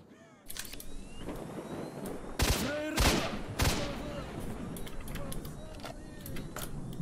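Gunfire in the shooter game S.T.A.L.K.E.R. Shadow of Chernobyl, a few loud sharp shots and scattered bursts against a rumbling background, with a person talking over the action.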